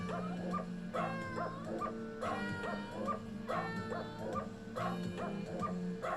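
Dogs yip, whimper and bark in a rhythmic, repeating pattern over steady music in a novelty song, with the barks sung to the tune.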